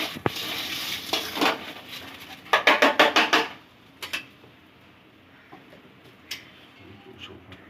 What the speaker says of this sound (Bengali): এবার ভালো করে এটাকে কষানো চলছে